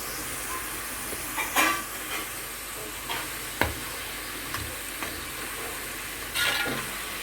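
Onions fry in oil in a pan for fish curry, a steady close sizzle punctuated by several sharp scrapes and clacks of stirring.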